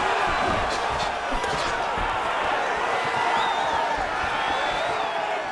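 Arena crowd noise at a simulated UFC openweight fight in a PS5 video game, a steady roar of cheering and whoops with some thuds, held at a constant loud level throughout.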